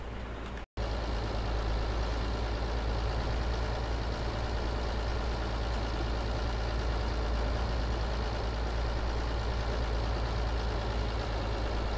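A video-game tractor engine labours while working a steep field, a continuous loud, low droning rumble that runs steadily after a brief dropout near the start.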